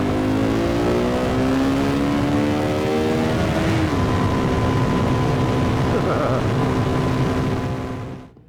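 A KTM 390 Duke motorcycle accelerates hard in third gear, its engine note climbing steadily in pitch, loud and close, with wind roar and a brief shift partway through before the sound fades at the end.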